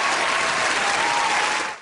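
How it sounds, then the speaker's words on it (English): A round of applause for Peyton Manning, dense and loud clapping from a crowd that holds steady and then cuts off abruptly. "Yeah, round of applause for Peyton Manning."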